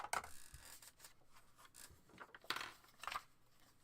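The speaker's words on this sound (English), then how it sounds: "I'll just cut this paper any old fashion and it'll work." Quiet, close snips and rustles of scissors cutting paper during a home craft session, several irregular cuts spaced across the stretch with soft handling noises between.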